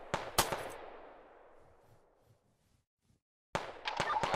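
Sharp gunshots in the video game BattleBit Remastered: a couple of close cracks whose echo decays slowly into near silence, followed by a fresh burst of shots at the end.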